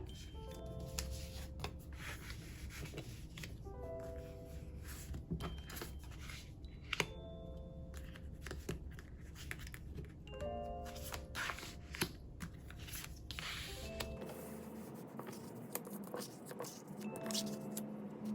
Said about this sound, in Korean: 자, 그러면 5장 뽑아보도록 할게요.